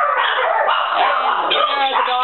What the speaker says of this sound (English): and there are the dogs again.